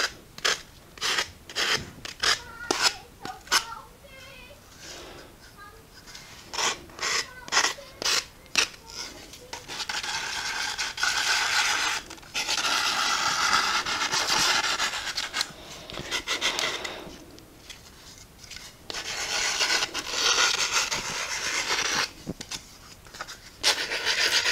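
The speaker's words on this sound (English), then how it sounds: "I'm going to use the sponge for getting the edges and finishing the corners" Wooden stacker edges and corners rubbed with a sanding sponge, first in quick rhythmic back-and-forth strokes, then in longer continuous scratchy passes, close and fairly loud with no talking.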